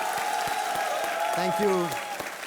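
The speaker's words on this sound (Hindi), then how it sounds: "और एक बार फिर जनता ताली बजाएं सैफ अली खान के लिए।" Studio audience applauding on the Kaun Banega Crorepati set for actor Saif Ali Khan, a steady broadband wash of clapping with a voice speaking over it partway through.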